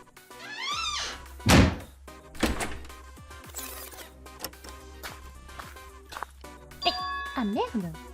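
A door in the Danganronpa Ghost-Despair video game gives a hollow thud, followed by more clunks, chimes and electronic game sounds, with someone talking over them.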